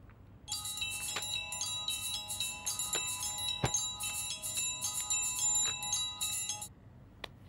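A phone ringing with a bright, repeated electronic bell-like tone in a steady pulsing pattern, moderately loud and close, running for about six seconds before stopping, with occasional clicks.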